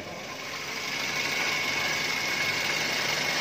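A Toyota Avanza or Daihatsu Xenia engine idles steadily after an oil leak repair, a close, even mechanical hum and hiss with no speech.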